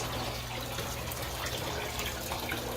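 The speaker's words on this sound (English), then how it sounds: "just sitting next to the turtle tank, just listening to the water" Water circulates and trickles continuously in a 300-gallon stock tank housing a snapping turtle, a close, steady splashing wash over a low filter hum.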